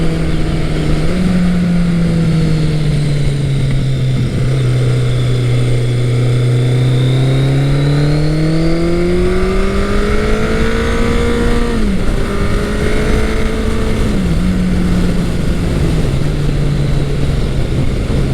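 A Kawasaki ZL900 Eliminator muscle cruiser's engine drones loud and close throughout a ride, its pitch rising and dipping as the throttle opens, with brief shift dips along the way.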